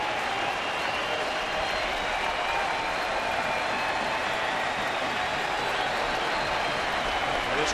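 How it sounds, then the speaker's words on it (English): Baseball crowd at a Cleveland at Kansas City game applauding and cheering in a steady, dense roar that holds evenly from start to finish, with faint voices mixed into the noise. "This crowd has been into it since the first pitch."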